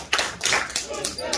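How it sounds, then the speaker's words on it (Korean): A church school congregation claps three quick times in unison, sharp close claps in an indoor worship room following a spoken cue. "박수 세번 시작!"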